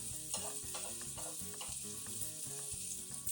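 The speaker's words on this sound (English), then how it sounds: "until it keeps sizzling" Cheese frying in a pan with a pickle in the middle, giving a steady close sizzle and crackle that runs the whole time under faint background music, with no talking.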